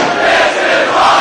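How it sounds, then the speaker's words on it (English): A wrestling crowd at a Ring of Honor show in Detroit roars and cheers loudly and continuously to rally Jack Evans, a dense wash of voices filling the arena. "As the crowd trying to rally Jack Evans"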